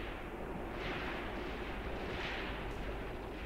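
Deep rumbling artillery fire in the tactical war game Graviteam Tactics, a dense continuous roar of low booms with a couple of brighter swells, loud and without talk.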